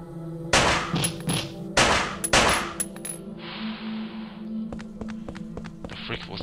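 Several sharp video-game gunshot blasts in quick bursts, followed by lighter clicks and thumps, with game-like tones in the background.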